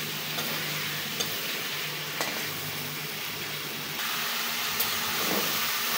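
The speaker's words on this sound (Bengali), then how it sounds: "পরে আমি কষায় নিতে আসছি, ভালো করে কষায় নিব" Fish stir-fried in a pan with spices, a steady close sizzle and hiss running throughout with occasional faint scrapes of stirring, no voices.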